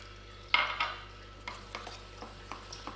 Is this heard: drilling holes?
no